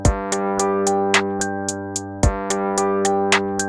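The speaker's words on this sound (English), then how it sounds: "a different sound that's maybe like a ride bell on the offbeats" Ride bell hits from the SoundTrap Patterns beat maker fall on the offbeats, a crisp metallic ping repeating at an even pace over a sustained electronic tone with a deeper accent now and then.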